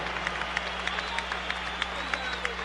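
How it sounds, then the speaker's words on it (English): Crowd applause and cheering for heavyweight boxers Evander Holyfield and George Foreman after their 12-round fight at Trump Plaza Hotel and Casino in Atlantic City, 1991. A steady, moderately loud roar of clapping with sharp claps standing out, under a low hum. "let's have a round of applause for these two heavyweights"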